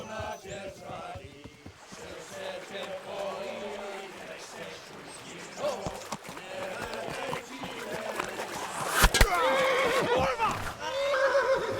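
A horse in the video game Kingdom Come: Deliverance neighs and whinnies over clip-clopping hooves and water noise by a riverbank, while game characters talk and shout throughout.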